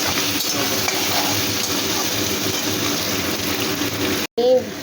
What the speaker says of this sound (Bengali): আদা, লঙ্কা, টমেটো, পেঁয়াজ সব ভালো করে আমি ভেজে